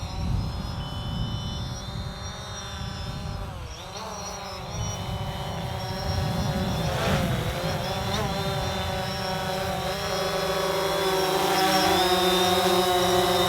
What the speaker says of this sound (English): So there's the drone.